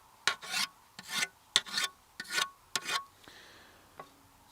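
A whetstone honing a scythe blade with firm strokes, five rhythmic scraping passes close by, each a quick double rasp, then a quieter tail with a light tap, no talking.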